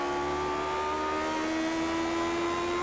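Race car engines in the iRacing sim at a retro series round at Imola drone loudly and steadily with a sustained high pitch that climbs slightly, several cars blending together with no talk.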